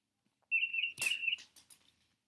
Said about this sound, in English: we'll search bird chirping sound effect